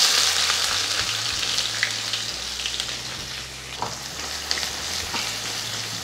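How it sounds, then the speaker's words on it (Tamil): Onions sauté in hot oil with fenugreek and cumin for a stingray fish curry, hissing in a dense, steady sizzle with occasional faint stirring taps, heard up close and without speech. "வெங்காயத்தை வந்து நல்லா வந்து ஒரு 3-4 நிமிஷம் நீங்கள் வதக்கி விடணும்"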